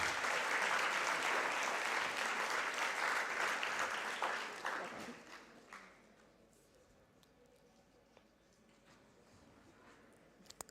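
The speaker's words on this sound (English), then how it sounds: "let's give him a round of applause." A round of applause from a symposium crowd at a youth leadership event, loud and dense for about five seconds before fading to scattered claps and a quiet room.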